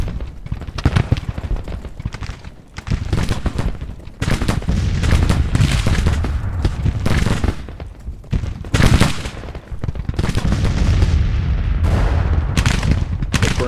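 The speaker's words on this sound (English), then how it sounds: "Howitzers are here firing away." Civil War howitzers and battle fire in Grand Tactician: Civil War, a dense, loud barrage of booms and crackling volleys overlapping continuously, with brief lulls between heavy bursts.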